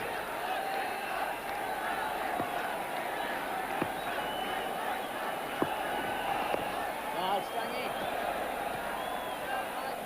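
A large cricket crowd at Kanpur roars for a boundary during an India versus Zimbabwe World Cup match, with a dense, continuous wall of cheering that stays loud and steady throughout.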